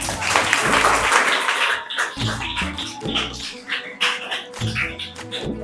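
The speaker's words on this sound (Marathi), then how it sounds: "टाळ्या वाजवा" Audience applause for a student at a school academic competition, loud, dense clapping from a nearby group that fades and resurges in waves.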